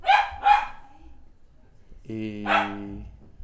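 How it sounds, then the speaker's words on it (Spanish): A small dog barks twice in quick succession up close, then lets out a longer whining bark after a short pause. "Uy, qué pena con el ruido. Mi perrito."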